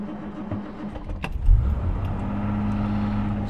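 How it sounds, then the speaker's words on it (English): A 1966 Aston Martin DB6 coupe cranks with a short burst and fires into a cold start, settling into a low, steady idle rumble close by; no one talks. "let's do our cold start"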